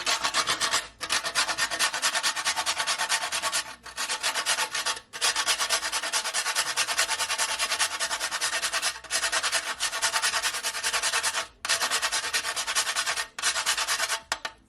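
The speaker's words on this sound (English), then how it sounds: "Then I'm just gonna grate my nutmeg." Nutmeg is grated by hand for a Jamaican spice bun, making a close, steady run of rasping strokes broken by short pauses between passes.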